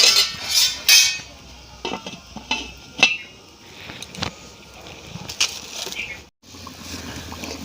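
Metal lid set onto a pot of water with two pieces of potato boiling, for jackfruit pakora, giving a few sharp clanks and scrapes among quieter kitchen clatter and a faint bubbling hiss.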